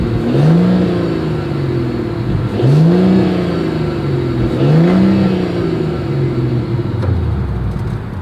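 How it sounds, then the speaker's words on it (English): A 2024 Mercedes-Benz GLS 450 exhaust is revved three times from idle, each blip rising sharply and falling back, loud and close, before settling into a steady idle rumble. "As always, here is that exhaust clip."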